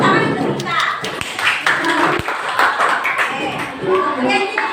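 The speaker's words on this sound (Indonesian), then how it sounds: "Tepuk tangan untuk kita." Students in a textile lesson clap their hands together in a classroom, a brief round of scattered clapping mixed with children's voices and talk.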